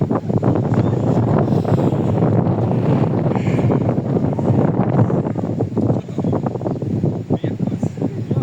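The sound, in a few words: wind blowing at a tall tower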